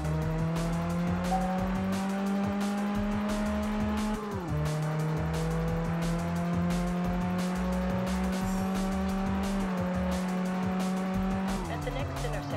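Car drifting in Test Drive Unlimited on PS2, engine droning with a long sustained tire squeal that drops in pitch at two gear changes, loud and continuous, with a voice talking over it.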